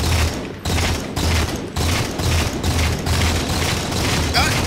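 Rapid repeated bursts of rifle gunfire in the video game Halo 4 War Games multiplayer, loud and close, in a steady pulsing rhythm with a few booms.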